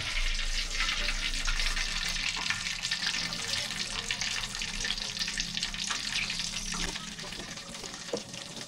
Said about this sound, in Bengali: এই সিদ্ধ করা আলুগুলো ডিরেক্ট তেলের উপরে ছেড়ে দিব।